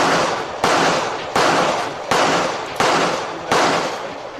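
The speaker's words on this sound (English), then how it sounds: "Was that you just shooting?" Gunshots at an outdoor shooting outing: six loud, sharp reports at an even pace, each one followed by a decaying echo tail.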